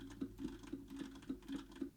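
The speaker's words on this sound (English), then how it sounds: "this is a test of the Fifine AM8 while I am typing on my keyboard in the background" Keys tap on a computer keyboard in a quick, steady patter of soft clicks, faint and close, with no voices over it.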